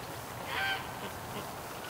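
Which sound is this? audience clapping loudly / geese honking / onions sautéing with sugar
geese honking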